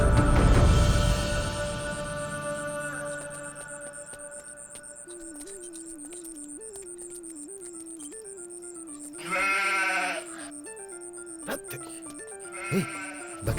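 Goat bleating in a dramatic film scene: a loud wavering bleat arrives after a noisy opening burst, followed by a sustained low tone and two shorter bleats, with no talk.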